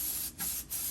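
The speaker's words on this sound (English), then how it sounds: "we're going to lightly oil our pan here. We're gonna use our cooking spray." Cooking spray oils a pan in short hissing bursts, three close spray blasts separated by brief pauses, with no talk.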